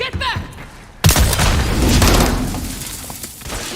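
A grenade blows up in a Call of Duty Modern Warfare 3 match: a sudden close, heavy boom cuts in about a second in and rolls into a long noisy rumble, with a brief voice heard just before it.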